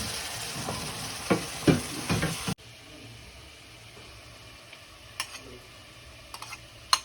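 Tomatoes fry in a pan with a crackling sizzle and sharp stirring clicks, loud at first, then dropping abruptly to a quieter hiss with occasional ticks.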